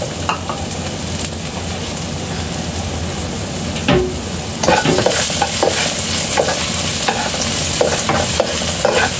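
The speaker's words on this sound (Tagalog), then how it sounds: "sa ating wok, painitin natin yung mantika. Lagyan natin ng garlic." Garlic frying in hot cooking oil in a wok, a steady crackling sizzle throughout with sharper spatters and scraping clicks growing busier in the second half, no talking.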